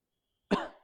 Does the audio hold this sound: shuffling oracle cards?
no